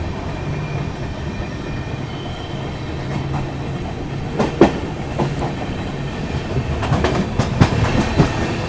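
Mumbai Howrah Duronto Express running nonstop past a station, a steady rumbling roar of wheels on rails with rhythmic clickety-clack bursts over joints, close and continuous throughout.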